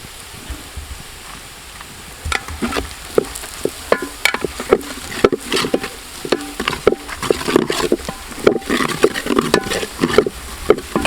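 A ladle scrapes and stirs masala and chicken in a heavy uruli pan, beetroot chicken roast cooking, with irregular clacks and scrapes against the metal over a steady low sizzle, close and fairly loud.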